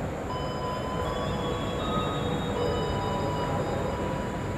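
The Taksaka express train rumbles steadily at a station at night, with a continuous low mechanical drone and faint high metallic squeals drifting over it, and no voices.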